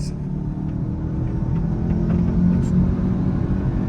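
BMW 530d and Skoda Octavia vRS accelerating side by side in a rolling drag race from about 20 km/h, a steady low engine rumble building slightly, heard from inside a car with faint talk.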